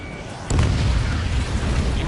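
A sudden loud boom from an enemy drone destroyed in the video game Ace Combat 7: Skies Unknown bursts out after a brief quiet moment, followed by a rumbling roar that carries on to the end.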